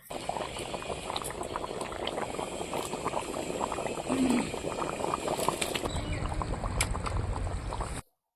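Hot water boils vigorously in a pan on a stove for a fish curry, a continuous close bubbling and churning that swells a little in the middle and cuts off abruptly at the end.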